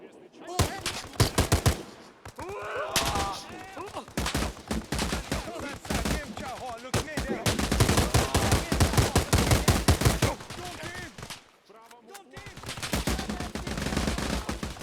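Rapid bursts of automatic gunfire in a Vietnam War-era video game crackle in uneven volleys, with short gaps between them and some faint shouting under the shots.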